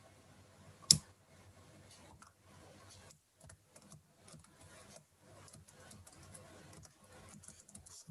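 Soft, scattered keystrokes on a computer keyboard, faint and close, with one sharper click near the start and then light, irregular tapping.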